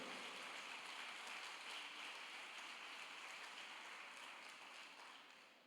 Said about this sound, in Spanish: Eso, déle ese aplauso al Rey